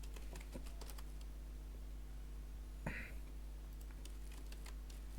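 A computer keyboard clicks as code for a Bootstrap 5 web page is typed, with quiet, scattered taps and one short burst of keys, under a low steady hum and no talk.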